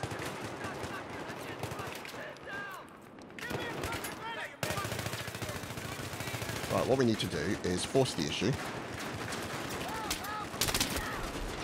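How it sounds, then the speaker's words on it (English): Gunfire in the Metro map of Battlefield 3, with bursts of rifle and machine-gun fire and distant blasts clattering under a voice, building to a denser volley partway through. "people get pinned down by the gunfire"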